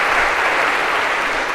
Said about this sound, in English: If maybe we can give Olivia a round of applause for just that